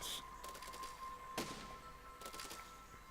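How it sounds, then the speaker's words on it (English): Cannons firing in the physics-building game Besiege, a quick series of sharp blasts and thumps with a steady tone underneath, clustered bursts over a few seconds. "we now have 2 completely different cannons that we can"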